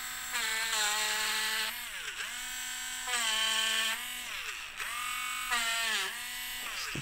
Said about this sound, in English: I'm gonna hit that with a eraser